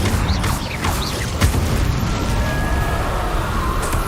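Incendio fire spell in Hogwarts Legacy on hard mode: loud booming, roaring bursts with sharp pops and whooshes, dense and sustained throughout.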